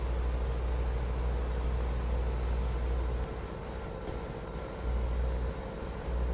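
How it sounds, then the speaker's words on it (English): Tractor engine in the video game Farming Simulator 15, a steady low droning hum that holds constant, dips slightly for a moment, then resumes, with no one talking. "I really love the sounds they've done on this tractor."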